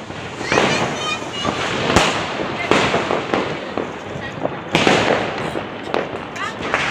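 A Diwali chatai, a string of firecrackers, going off in rapid, uneven crackling pops with several sharper louder bangs, close and loud, while people talk over it.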